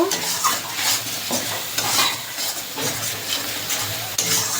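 Spice paste with turmeric and Kashmiri chilli powder sizzles and is stirred in a pan for katla fish kalia, a steady close frying hiss broken by repeated scraping strokes, with no talking.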